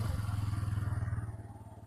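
A Bajaj Pulsar P150 motorcycle idles with a steady, throbbing single-cylinder exhaust pulse. The even thump is close and moderately loud and eases slightly toward the end, with no speech.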